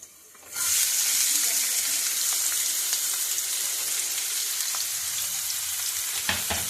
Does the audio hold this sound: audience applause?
no